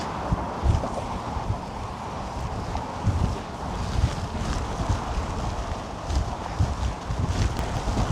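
A strong headwind buffets the microphone while a cyclist descends a hill on a long ride across the bay in California, a loud, continuous roar with gusty low rumbles.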